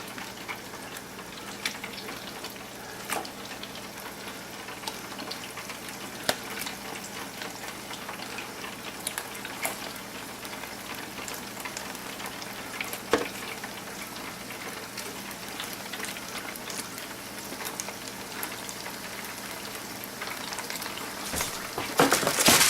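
Salmon nuggets fry in a fryer basket of hot oil, a steady dense crackling sizzle with scattered pops, close and continuous with no voices.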